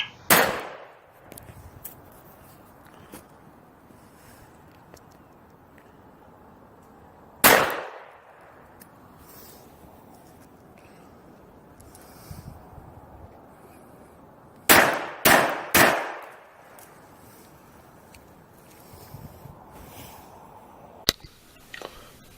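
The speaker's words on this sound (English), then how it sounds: "a first test firing done with the pistol in January 2017" Test firing of an Artillery Luger P08 pistol fitted with a World War I style snail drum magazine outdoors: sharp single shots at about 0, 7.5 and 21 seconds and a fast string of three near 15 seconds, each followed by a fading echo.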